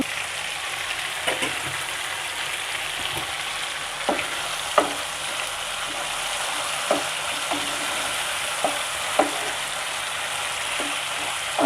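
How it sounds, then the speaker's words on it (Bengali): Chicken giblets and liver stir-fried in a pan for a dal curry, a steady close sizzle broken by occasional scraping stirs and light utensil clicks, with no talking. "আমি মাংসটা কষিয়ে নিতেছি"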